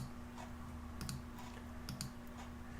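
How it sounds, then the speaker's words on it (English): Computer mouse right clicks on a file in a programming setup, two or three faint, crisp clicks about a second apart over a steady low hum, no talking. "I'm going to right click on the executable."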